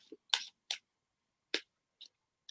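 Tarot cards being shuffled by hand, a few short crisp riffling bursts separated by silence, close and fairly quiet.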